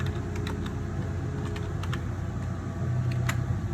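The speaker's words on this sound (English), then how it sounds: "It's probably easier to type it in." Fingers tap out entries on a computer keyboard during a SIM calibration with thermocouples, a run of light, irregular key clicks over a steady low background hum, close and fairly quiet, with no talking.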